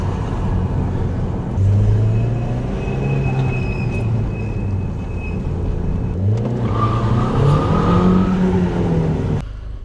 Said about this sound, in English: Let's try the Audi for one more time and see if you can hear all the noises.